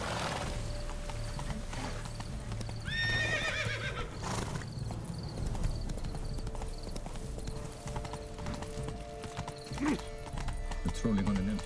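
Horse hooves clip-clopping at a steady pace with loud neighs and whinnies, from a ridden horse in the video game The Witcher 3: Wild Hunt, Blood and Wine, with game sounds and voices throughout.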